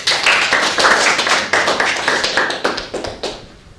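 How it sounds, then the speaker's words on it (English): Audience applause welcomes Oscar Rodriguez, a property management speaker, to the stage. Dense clapping starts at full strength, then thins and fades toward the end, with no voices over it. "let's give a round of applause for Oscar"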